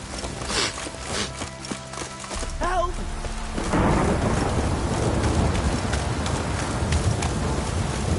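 Rain and thunder in the video game The Witcher 3, with heavy broadband rain noise swelling to a steady loud downpour after a few seconds, a rumble underneath, and other game sounds and a brief voice-like warble early on.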